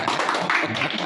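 At an eighth birthday party, a group claps in quick, scattered bursts while voices talk over and around the applause, close and lively.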